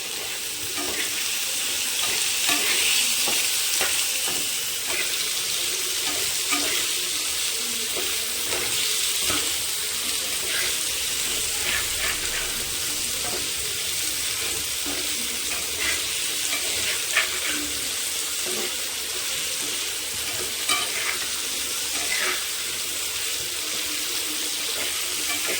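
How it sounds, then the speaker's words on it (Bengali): Papaya pieces fry in a pan with turmeric and salt, giving a steady, dense sizzle with occasional stirring scrapes and clicks throughout; no voices are heard. "ভালো করে এটা ভাজা ভাজা করে নেবো।"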